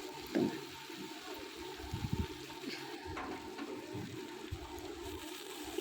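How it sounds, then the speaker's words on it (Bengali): Water is poured into a pot of Bengali curry with potatoes and boiled stems, a close gurgling, splashing rush with a few clinks and bubbling surges. "একটুখানি জল দিয়ে দেবো।"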